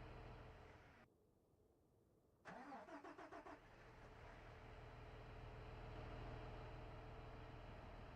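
A tractor engine starts up in a farming video game: after a brief hush comes a quick burst of starter cranking pulses, then the motor catches and settles into a steady, rising idle hum.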